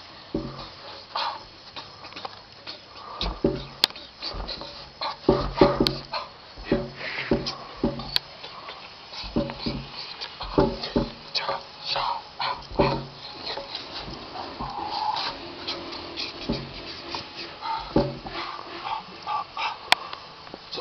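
Several dogs bark, yip and whimper in a lively, irregular burst of sounds over about twenty seconds, close to the microphone, with scattered voices mixed in.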